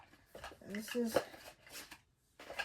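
Cards from a Cosmic Star tarot deck are shuffled and drawn by hand, giving brief papery flicks and slides close to the microphone, broken by short pauses with a voice in the gaps.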